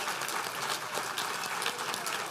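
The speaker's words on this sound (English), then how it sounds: "If we could just give her a round of applause for all the background work." Audience at a rugby alumni banquet applauding, a dense steady patter of many hands clapping at moderate loudness for the whole stretch, no voices over it.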